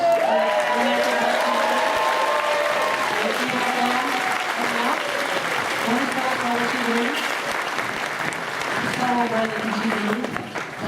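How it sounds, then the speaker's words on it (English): Audience applause fills a film festival Q&A in Toronto, a steady loud wash of clapping from a crowd with a voice talking over it throughout. "Give a big round of applause."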